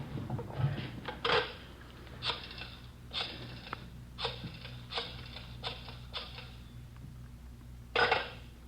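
An old landline telephone gives a few short, faint rings in an indoor scene from a Dragnet radio drama, spaced irregularly over quiet room noise.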